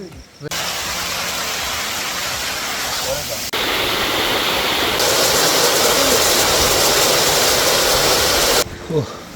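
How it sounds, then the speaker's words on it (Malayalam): A waterfall pouring down from a height roars as a loud, steady, broadband rush that fills the whole stretch, dropping away abruptly near the end. "അതിൻ്റെ മുകളിൽ നിന്ന് വരുന്ന വെള്ളച്ചാട്ടമാണ്"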